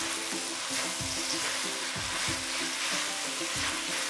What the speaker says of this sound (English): Add garlic leaf and bean sprout. Mix them roughly.